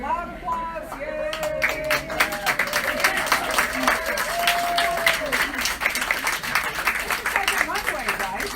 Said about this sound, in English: Here they come. Loud applause.